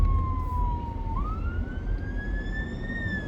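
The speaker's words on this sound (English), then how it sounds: "I put that on quick so you could see the fire engine" A fire engine siren wails as it passes at moderate distance, its tone falling, then jumping and rising again over a low rumble of road traffic, with no one speaking.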